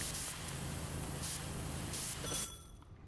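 Continuous hissing spray of a pressure washer in PowerWash Simulator 2, blasting steadily for a few seconds before cutting off near the end, with no talking.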